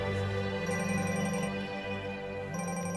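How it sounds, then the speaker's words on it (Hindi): An electronic phone ringtone plays a steady, bright melodic tone pattern that repeats without pause, fairly loud and alone, set in a dubbed Hindi film scene. "दादा का फोन।"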